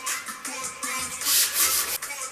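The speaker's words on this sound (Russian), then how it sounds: "А потом заняться шлифовкой, чем я сейчас, собственно," Wood being hand-sanded in a joinery workshop to smooth filled chips along the edges, a loud, close, steady scraping rub in uneven back-and-forth strokes with brief pauses, no talking.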